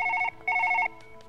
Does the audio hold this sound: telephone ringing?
yes